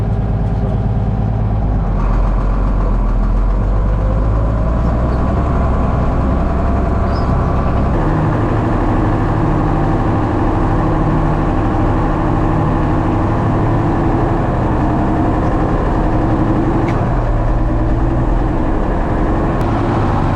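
A tractor engine drones steadily and loudly throughout, a deep continuous rumble that shifts slightly in pitch partway through, with no voices.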